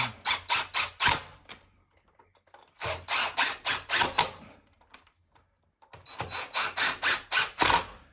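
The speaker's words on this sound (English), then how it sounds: "And then just screw up with your posi drill bit." A power drill with a Pozidriv bit drives screws for a Venetian blind into a window frame in three separate bursts, each made of quick pulsing revs, close and clear with quiet pauses between.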